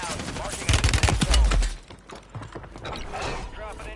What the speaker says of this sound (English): A mortar strike, of course.